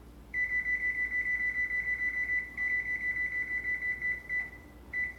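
Kitchen oven timer beeps in a fast, continuous run of short high-pitched pulses, steady for several seconds with brief breaks near the end, moderately loud over a low room hum, no voices.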